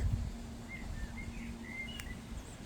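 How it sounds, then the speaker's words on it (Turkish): Birds sing with faint, scattered chirps by a gently flowing river in the evening near a wooden bridge in Kingisepp, Russia, over a low steady background hum. "Kuşların sesi geliyor artık."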